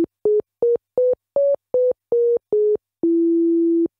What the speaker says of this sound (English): that's your basic sort of sine wave patch, which is quite nice